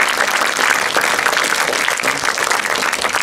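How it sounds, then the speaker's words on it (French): An audience at a conference gives the lecturer steady, dense applause, a continuous close wash of many hands clapping with no talk over it. "merci d'applaudir le conférencier"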